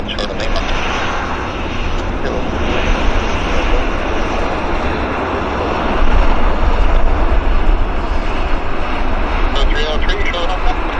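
A WestJet airliner taxis at Vancouver Airport, its steady engine roar filling the scene at constant loudness and swelling slightly partway through, with voices talking over it.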